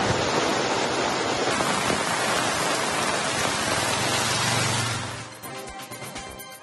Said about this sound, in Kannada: ಜೋಧ್ಪುರ, ಬಿಕನೇರ್, ಅಜ್ಮೇರ್ನಲ್ಲಿ ಭಾರೀ ಮಳೆಯಾಗ್ತಾ ಇದೆ.